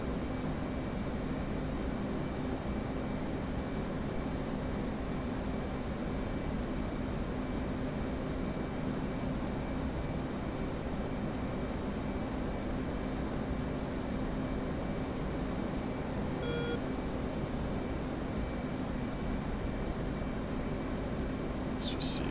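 An F/A-18C jet cruising at 25,000 feet in the DCS flight simulator, heard as a steady, smooth engine drone that stays even for the whole stretch, with a brief click near the end and no talking.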